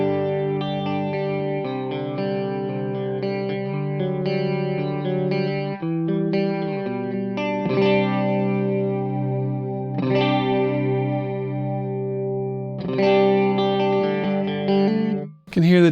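Electric guitar through a chorus patch on a Fractal FM9, strummed chords and picked notes with a shimmering, wavering sweep, sustained and fairly loud with no talking over it.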